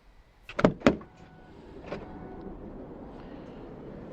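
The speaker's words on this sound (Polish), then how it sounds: "Żeby dostać się na drugi, i trzeci rząd siedzeń trzeba odsunąć drzwi. Oczywiście, żeby się nie zmęczyć, to są one regulowane elektrycznie." The electric sliding side door of a Hyundai Staria Hybrid van opens with a couple of sharp mechanical clunks followed by a smooth motorised whirr, close and fairly quiet.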